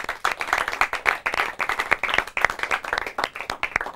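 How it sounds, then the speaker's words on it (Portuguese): An audience claps at an award ceremony for a Portuguese-language school quiz final. The claps are distinct and fairly close, coming in quick uneven bursts from a modest crowd for a few seconds. "Uma salva de palmas para ela."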